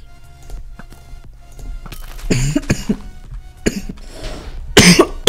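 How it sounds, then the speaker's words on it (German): A person coughs repeatedly during a Minecraft gaming session, several harsh, loud bursts close to the microphone in the second half, with quieter game sounds and clicks beforehand. "Oh mein Gott, da muss ich kurz husten."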